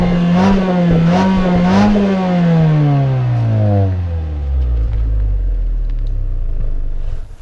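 A Mazda 6 engine and exhaust rev up in three quick blips, then the engine note sweeps down steadily and settles into a low, deep idle rumble, loud and close with no talking.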